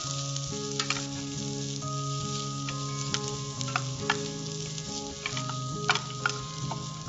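Onions sizzle steadily in a pan, frying for a Szechuan-style sauce, with occasional scrapes and taps of a spoon stirring them, close and continuous.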